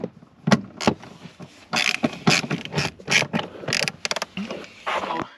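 A ratchet on an extension loosens a 10 mm bolt holding the dead pedal in a Ford Bronco footwell, giving close, repeated clicking and scraping bursts in short irregular pulls with no talk.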